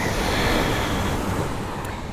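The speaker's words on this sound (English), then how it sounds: "listening to the meditation, sound of the ocean to repattern your brain" Ocean surf at Maui, Hawaii, a steady broadband wash of breaking waves rolling on without pause, moderately loud and continuous, with no voices over it during a yoga session.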